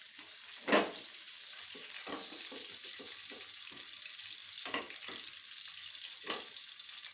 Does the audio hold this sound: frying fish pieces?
yes